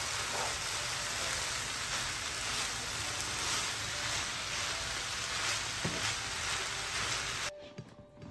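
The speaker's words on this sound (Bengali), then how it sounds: "এবার এগুলো দিয়ে হাই হিটে একটু নেড়ে চেড়ে নিলে আমার ফ্রাইড রাইস তৈরি" Fried rice stir-frying over high heat makes a dense, loud, continuous sizzle with occasional stirring clatter, cutting off abruptly near the end; no voices.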